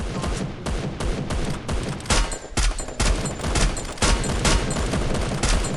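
Rapid bursts of gunfire from the Free Fire video game, dense overlapping shots and booms filling the clip with continuous loud fusillade and no talk.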